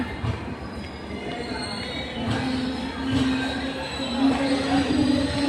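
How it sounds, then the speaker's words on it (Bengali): A train rumbles steadily with a low droning tone and faint metallic squeal, growing slightly louder as it moves; no clear talking. "ট্রেন ছেড়ে দিল"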